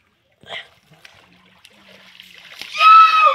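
Spring water welling up out of the ground: a faint, close trickle that grows into louder splashing and gurgling near the end.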